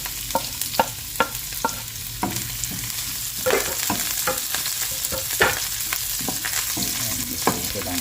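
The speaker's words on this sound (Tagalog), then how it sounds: "Yan, lagyan natin yung ating bawang sibuyas." Garlic and onion sauté for Filipino arroz caldo, a steady close sizzle in hot oil broken by sharp scrapes and knocks of a spatula stirring the pan.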